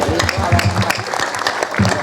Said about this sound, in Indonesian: tepuk tangan untuk Pak RT